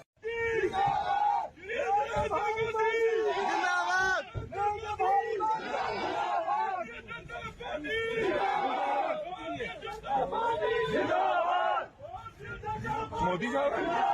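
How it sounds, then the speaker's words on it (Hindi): A large crowd in Punjab loudly chants slogans for Narendra Modi, voices rising and falling in rhythmic call-and-response bursts, with a dense roar throughout and brief dips in volume. "वो 26 सेकंड का वीडियो जिसमें नरेंद्र मोदी जिंदाबाद के नारे लगाए जाते हैं।"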